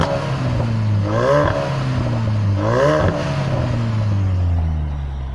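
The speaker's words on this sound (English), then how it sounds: "the guy's gonna give it a quick rev for me" A new blue Ford Focus RS sits parked while its engine is given two quick revs, each rising and falling sharply over a loud, steady idle that slowly settles toward the end.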